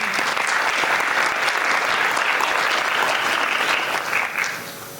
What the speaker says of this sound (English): Let's give a big cheer for our Natuvangam artist, Guru Srimati Mathura Vishwanathan.